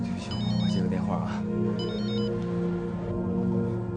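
A telephone rings repeatedly in a cluster of bright electronic tones, heard close and loud over a steady background with voices.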